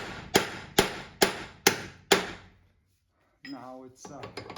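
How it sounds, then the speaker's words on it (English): A hammer taps a long punch against the transfer case of a 2007-2021 Toyota Tundra 4x4, five sharp evenly spaced metallic strikes, each ringing briefly, then a pause before a rattling, clinking shuffle of loosened parts. "I just use a long punch and give it a couple taps"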